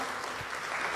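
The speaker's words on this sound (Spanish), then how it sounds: "Dele una ofrenda de palmas a tu Dios" Congregation applauding in a church, a brief steady burst of clapping heard alone, moderately quiet.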